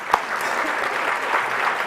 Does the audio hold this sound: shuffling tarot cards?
no